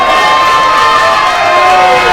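A hockey arena crowd roars and cheers loudly and continuously after Indiana scores against the Dayton Flyers, with high-pitched shouts and whistles riding over the sustained din.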